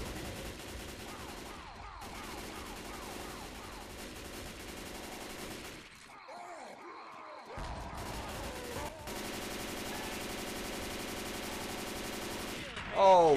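Bursts of rapid automatic gunfire and scattered shots in the co-op zombie shooter Left 4 Dead 2 during a fight with a Tank, moderately loud with brief pauses and a sharp burst near the end.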